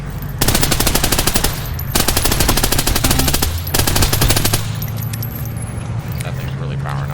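Rapid submachine gun bursts from a video game, three long loud volleys of fast automatic fire with brief gaps, a steady engine-like hum underneath and speech over the action.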